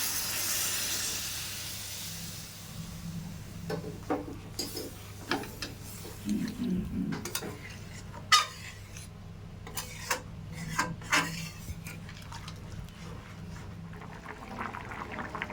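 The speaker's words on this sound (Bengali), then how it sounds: "ঝোলটা ভালো করে ফুটে উঠেছে," Curry gravy with kankur vegetables bubbling in a pot after hot water is added, giving a soft steady hiss broken by repeated scraping and stirring clicks, no voices.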